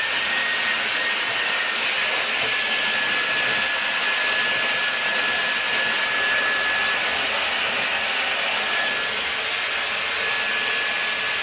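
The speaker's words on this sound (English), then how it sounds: "what I like to do is just take the attachment off and blow dry like this" A T3 Aire 360 hair dryer runs with its attachment removed, giving a loud, steady, close airflow whoosh with a faint high whine, unbroken and without speech.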